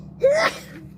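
A single sharp sneeze bursts out close by in a quiet outdoor setting, quick and breathy with a gasping onset, then fades to near silence.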